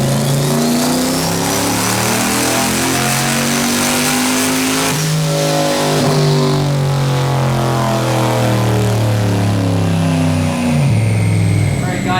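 A high-horsepower turbocharged car engine on 4 pounds of boost roars through a long, loud pull. Its pitch climbs steadily, drops briefly at a shift around midway, then climbs again before easing off.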